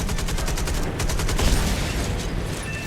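Aircraft machine guns firing in Birds of Steel, a WWII flight game set in 1941: rapid, loud, continuous rattling bursts over a steady engine roar, with brief pauses between volleys.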